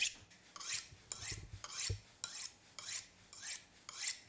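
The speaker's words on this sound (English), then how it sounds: "After using either a ceramic or diamond edge, you should hone the knife with the true steel." A kitchen knife drawn repeatedly along a honing steel, giving about eight quick, even metallic rasping strokes in steady rhythm, close and fairly quiet with no voices.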